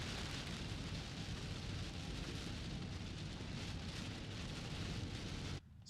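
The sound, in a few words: rain falling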